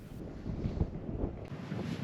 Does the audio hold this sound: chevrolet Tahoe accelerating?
no